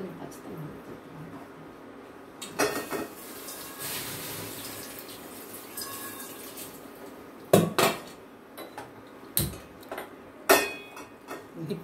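A metal pan clanks down onto a stovetop, followed by several sharp clatters and knocks of cookware against a quiet kitchen background.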